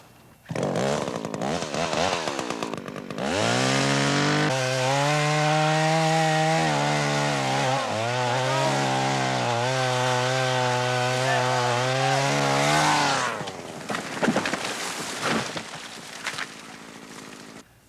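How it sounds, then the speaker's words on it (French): A chainsaw revs up and cuts steadily through a tree to fell it in snow, with a loud, sustained engine drone that wavers in pitch, then drops off near the end. "ça en fait du bruit, une scie mécanique"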